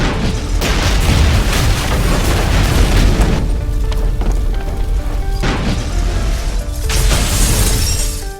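Loud, sustained explosions and crashing debris from an action thriller fill the scene, with repeated booming bursts and shattering roar that swell and surge for several seconds without pause.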